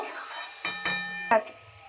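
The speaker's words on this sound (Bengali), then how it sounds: "লাল লাল করে হালকা করে ভেজে নেব" Paneer cubes frying in a pan at home, a steady soft sizzle broken by a few sharp metallic clinks of a utensil against the pan.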